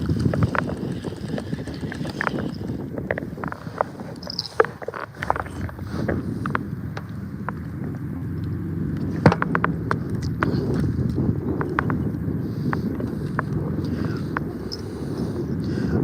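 A fishing boat's outboard engine running steadily on the Ohio River, a continuous low droning rumble with wind buffeting and scattered clicks and knocks, no talk heard.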